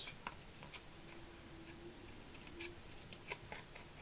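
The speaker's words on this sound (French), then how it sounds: "Ici on va prendre un petit ciseau et où il y a les petites encoches, en fait on va venir couper." Small scissors snip notches into a lace storage card, a handful of sharp, quiet clicks and cuts spaced irregularly over a soft room background.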